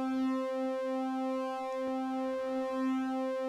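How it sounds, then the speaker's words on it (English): A Eurorack modular drone from a sine wave fed through a wave folder, a steady sustained tone rich in evenly spaced harmonics, holding one pitch throughout with a slight slow wavering. "from a plain old sine wave and a wave folder, you can get some quite interesting waveforms"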